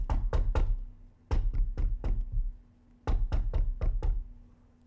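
Heavy knocking on a door comes in three separate bursts of rapid, loud raps, each burst followed by a short pause, close and clear with no talking.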